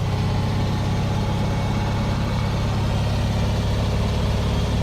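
A small engine just fired on half choke from a cold start settles into a steady, close, continuous idle with a low rumbling throb and no pauses.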